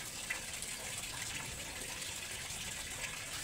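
A tap runs in a steady, even rush of water during a speaker cone repair. The flow is close and unbroken, with no voices.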